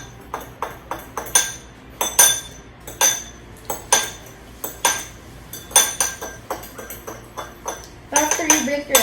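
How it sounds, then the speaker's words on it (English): An egg knocked and cracked open in a home kitchen while a vegetable patty is being made, heard as a string of sharp clinks and taps against a bowl, close and fairly loud. "before you place anything in that well, you need to open your egg"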